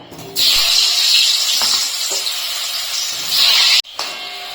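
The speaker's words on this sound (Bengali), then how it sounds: "কড়াইতে আমি সাদা তেল গরম বসিয়েছি এখন আমি প্রথমে আলুগুলোকে ভেজে নেব" Potatoes fry in hot white oil in a wok, giving a loud, steady hiss and sizzle that drops out sharply near the end before resuming, with no voices.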